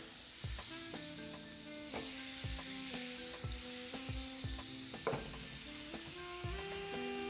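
Butter melting and sizzling in hot olive oil in a pan, a steady close crackle running the whole time with music-like tonal notes over it and no talk.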